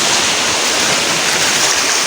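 Sea waves breaking nearby, a loud, continuous rushing wash of surf with no clear pauses and no voices.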